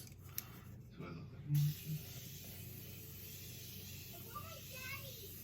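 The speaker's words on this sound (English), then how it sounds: "Like it's like an aerosol spray, and I just love the formula." Aerosol makeup setting spray sprayed during a makeup routine, giving a soft, steady airy hiss that starts abruptly and carries on continuously at close range in a quiet room.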